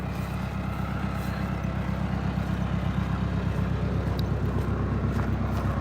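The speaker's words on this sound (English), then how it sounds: "it's going to get noisy now because we're going to get back to the tractor" A tractor engine runs steadily on a horse farm, a loud, low rumbling drone that stays constant and near throughout.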